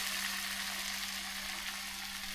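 A large lentil vada frying in coconut oil, a dense, even crackling sizzle that holds steady and close throughout, with no voices.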